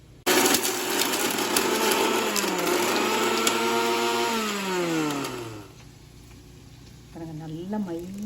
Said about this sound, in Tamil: இதை வந்து நல்லா விழுதாக அரைச்சி எடுத்துக்க போகிறேன்